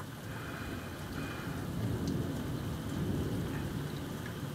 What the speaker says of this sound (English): Some really big ass thunder out there,